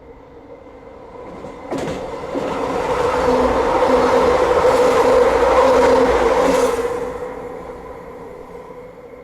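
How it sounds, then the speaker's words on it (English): A passenger train runs toward a station and stops, with a brief clank and then a steady rumble and whine that rises, holds, and fades out as it comes to rest, with no voices. "please remain seated until the train comes to complete stop at the station"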